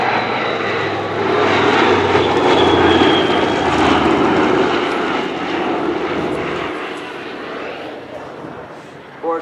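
Loud, steady droning of a B-24 bomber's big piston engines roaring continuously, swelling slightly then easing off, with faint voices underneath.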